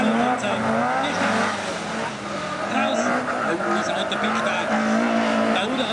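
A rally car races up a hill climb course at Tarrenz, its engine revving hard with tire noise, heard fairly close beneath a commentator talking continuously.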